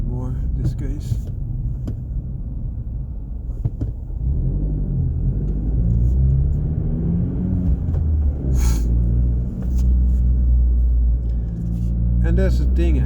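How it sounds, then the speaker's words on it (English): Suzuki Swift Sport Hybrid BSL Edition with HKS lowering, its engine revving up through first and into second gear from inside the car, a loud rising drone with a shift break and a voice talking over it. "First gear to the second gear, revving the first gear a little bit more in this case."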